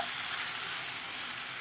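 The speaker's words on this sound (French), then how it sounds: "On fait revenir le tout. On laisse cuire sous feu doux." Chicken livers seasoned with salt, pepper and cumin sizzling in a pan over low heat, a steady, even hiss of frying that holds level throughout, with no talking.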